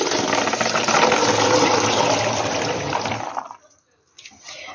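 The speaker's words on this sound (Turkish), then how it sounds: "Yıkadığımız zeytini bir süzelim. Süzgüye alalım." Washed olives are drained in a colander with a loud, steady rush of rattling water for about three seconds, then it cuts off abruptly, leaving a brief faint clatter at the end.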